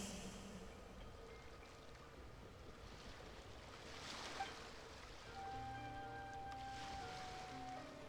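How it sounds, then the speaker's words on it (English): Ocean waves in the video game Genshin Impact wash steadily against the shore with a soft, continuous surf hiss and breezy wind, while faint tonal game music notes drift in over the second half. "Go to where you can hear the sound of the waves."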